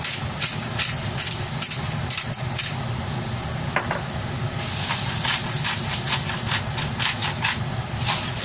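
Onions with a little oil sizzling in a pan, a steady close hiss with faint clicks and pops, with no talking.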